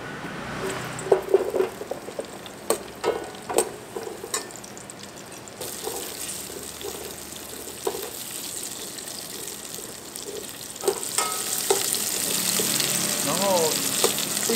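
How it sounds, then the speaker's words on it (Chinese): Aromatics tossed into hot oil for a vegan pumpkin soup, with scattered clicks and clatter at first, then a loud, continuous sizzle building toward the end. "接下来我们要来爆香。"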